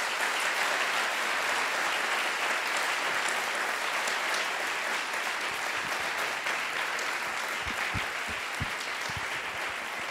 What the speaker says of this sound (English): I would like, a big round of applause